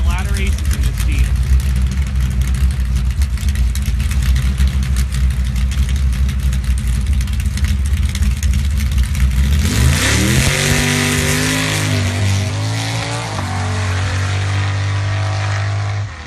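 A drag racing Jeep engine idles with a deep, steady rumble and then rises in revs, loud and nearby, with a commentator talking over it.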